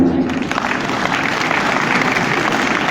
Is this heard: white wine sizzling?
no